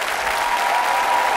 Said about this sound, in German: Begrüßen Sie mit mir und mit einem großen Applaus Anke Engelke.